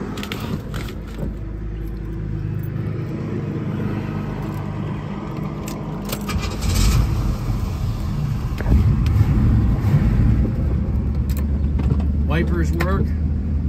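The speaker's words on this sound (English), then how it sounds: "I'll fire it up here for you." A 1980 Pontiac Trans Am engine cranks, catches and settles into a steady low rumble, heard from inside the car with some clicks and mechanical noise, swelling slightly about halfway through.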